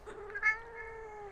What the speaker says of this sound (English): Meow. It's one of the only ducks that doesn't quack.